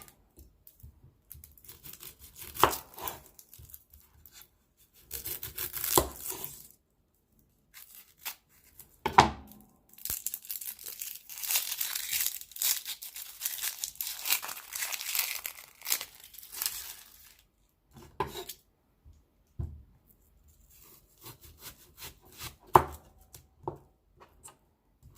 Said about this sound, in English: So I'm going to go ahead and chop this up